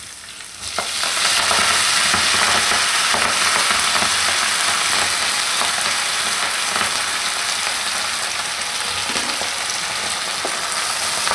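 Fenugreek leaves and asafoetida sizzle loudly in oil as they are stirred, a dense, continuous frying hiss with occasional scraping clicks after a quieter start, and no talk.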